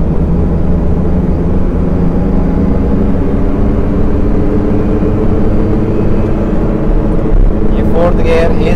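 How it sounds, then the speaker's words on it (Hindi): Steady, loud engine drone and road rumble from a diesel Chevrolet Beat hatchback while it drives, continuous throughout, with someone talking over the noise. "गाड़ी का आवाज भाई, ये गाड़ी बहुत ज्यादा कर रही है।"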